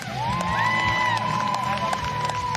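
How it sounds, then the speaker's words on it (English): A crowd at a women's timbersports lumberjack competition cheers and applauds for a competitor being introduced, a dense steady wash of clapping with whoops and a loud public-address voice ringing over it. "Big round of applause for Stephanie Naud."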